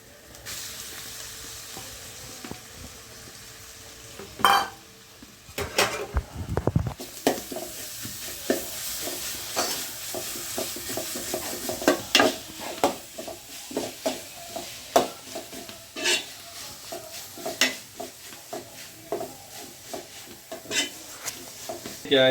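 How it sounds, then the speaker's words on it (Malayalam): Garlic, ginger and green chili paste goes into a hot pot for beef curry, a sizzle with repeated scraping and clanking stir strokes, close and fairly loud. "ഇനി വെളുത്തുള്ളി ഇഞ്ചി പച്ചമുളക് പേസ്റ്റ് ചേർക്കുകയാണ്"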